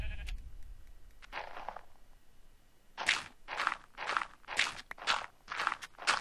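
A sheep in the Minecraft video game bleats briefly. A steady series of evenly spaced, close footsteps in the game follows.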